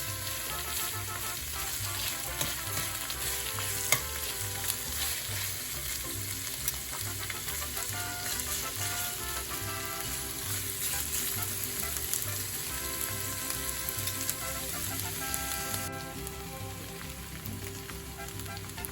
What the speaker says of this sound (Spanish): más o menos han pasado 4 minutos en lo que yo he estado moviendo la cebolla